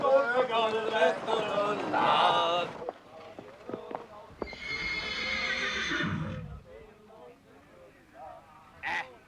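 A horse whinnies loudly twice, long shrill neighs separated by a pause, with hoof clatter and a short squeal near the end.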